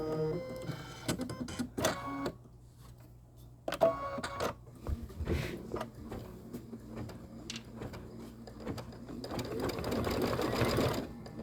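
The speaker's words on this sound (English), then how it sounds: "it wants you to stitch your ribbon placement line" An embroidery machine stitches a ribbon placement line for a Kimberbell Cup of Cheer design, rapid rhythmic needle clatter in short start-stop bursts, close and clear, building to a denser run near the end.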